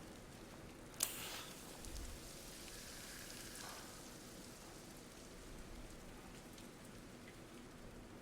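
Rain falling in Death Stranding, a faint, steady hiss of drops on surfaces with a brief sharp tick near the start and no voices.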